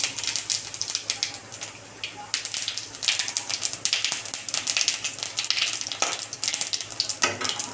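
Two bay leaves and whole cumin seeds hit hot oil in a pan, giving a loud, dense, continuous sizzle with crackling spits, close up.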